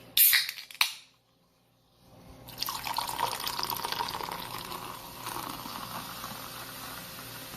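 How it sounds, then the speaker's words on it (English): Sprite Zero poured from a bottle into a vodka drink, a couple of short clinks and splashes first, then after a brief pause a steady fizzing stream of liquid filling the glass, close and moderately loud. "Put in our Sprite Zero."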